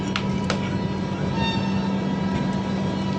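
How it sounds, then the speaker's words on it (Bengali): A train pulls away from a station platform, its low steady rumble and rolling hum carrying on throughout, with a couple of sharp clanks or horn-like bursts early on. "তো ট্রেন ছেড়ে দিয়েছে"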